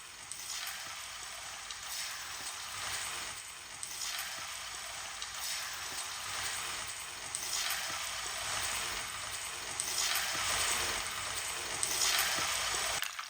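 Surmai fish rubbed with turmeric and red chili, frying on a high flame: a steady, close crackling sizzle with swelling hissing bursts every couple of seconds, continuous throughout without any voices.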